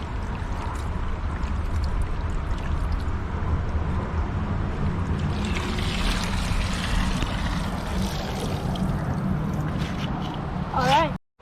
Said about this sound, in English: Now we can just use the water from the pan to splash all the dirt